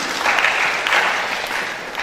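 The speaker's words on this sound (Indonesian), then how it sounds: "Tepuk tangan buat Pak Ahmadi." Audience applause in a mentor training session, a crowd clapping together in a dense burst that swells early and then gradually fades over two seconds.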